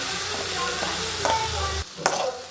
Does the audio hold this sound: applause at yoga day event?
no